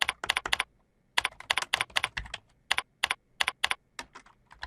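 Fingers tap out quick bursts of keystrokes on a computer keyboard while clinical notes are entered, the close, crisp clicks arriving in irregular runs with short pauses.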